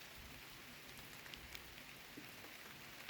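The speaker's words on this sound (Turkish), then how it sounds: "Yağmur yağıyor." Steady rain falling over a walnut orchard at about 1400 m altitude, a continuous dense hiss of drops with occasional close patters, and no voices.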